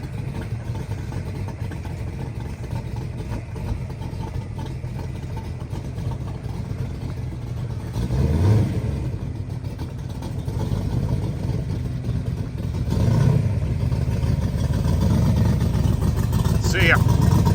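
A motorcycle engine rumbles steadily, swelling as it rolls past and revving up in a couple of surges, heard outdoors over a constant low drone with people talking throughout.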